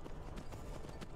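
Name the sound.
horse hooves from the video game Skyrim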